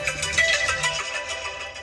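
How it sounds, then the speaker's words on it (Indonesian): A phone rings indoors with a bright electronic ringtone that plays loud and close for about a second and then fades off. "Oh, telepon."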